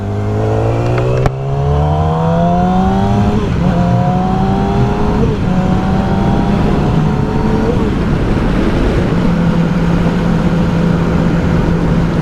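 A 2007 Yamaha R6 motorcycle fitted with a Power Commander 5 revs hard and steady, its loud engine note climbing and sweeping in pitch through repeated throttle blips, close by with no talking.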